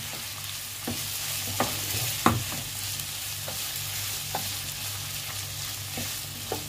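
Minced meat frying with onions and black pepper in a pan, a steady sizzle with occasional scraping strokes of a spoon stirring through it, close and moderately loud, without speech.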